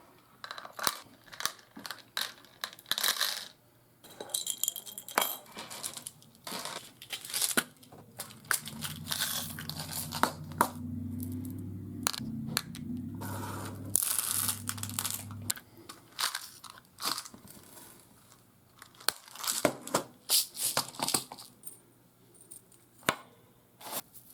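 Small black beads gathered and handled for making repurposed sewing-notion earrings give close, crisp clicking and crinkling rattles, with a denser, heavier stretch of rummaging partway through and no talking.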